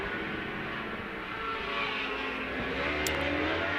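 Superbikes racing on the track at Most in the Czech Republic during an Alpe Adria Superbike race, their engines making a continuous, moderately loud roar that rises slightly as they pass.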